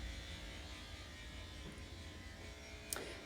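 Electric clippers buzz steadily and close up while shaving a cat's fur into a lion cut, running along the chest, with a brief sharp click near the end.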